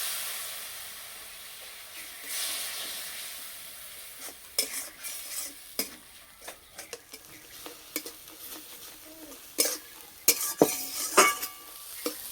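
Ground spice paste with a little turmeric, cumin powder and a splash of water sizzles steadily in a pan, with repeated clinks and scrapes of a spoon stirring, close up and fairly loud.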